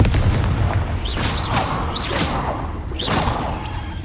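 Confringo explosive spell blasts in the Hogwarts Legacy video game: a few loud booming bursts with whooshing tails, spaced irregularly over a dense game soundscape.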